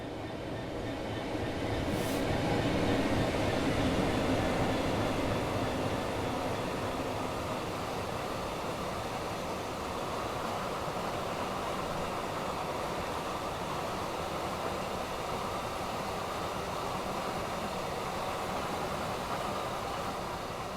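Class 66 freight locomotive 66109 hauls a loaded stone train through East Midlands Parkway station, a steady loud rumble of engine and rolling wagons filling the whole stretch with no break.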